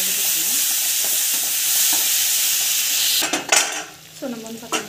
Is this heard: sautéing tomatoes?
yes